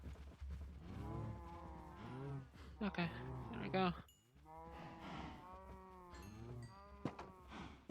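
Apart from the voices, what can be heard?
cows mooing in Minecraft video game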